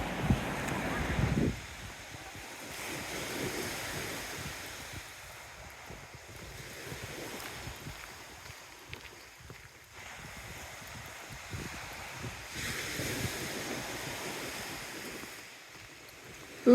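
Sea waves wash onto the coast at Teignmouth, rising and falling surges of surf mixed with wind noise, heard outdoors with no clear talk.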